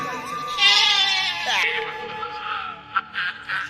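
A human voice imitates a goat's bleat during a devotional kirtan performance, a drawn-out wavering nasal cry followed by shorter bleating bursts, close and fairly loud.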